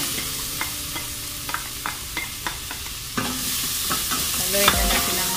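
Garlic, ginger and onion frying in hot oil in a cooking pot, a bright steady sizzle broken by repeated scrapes and stirs of a utensil, close and loud with no talking.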